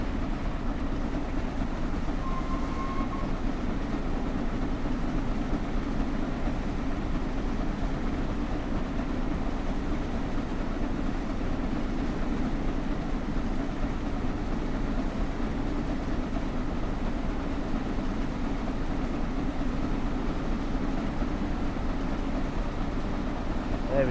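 Passenger train running on rails between New York Penn Station and Trenton, a steady rumbling ride heard continuously at close range with no talk.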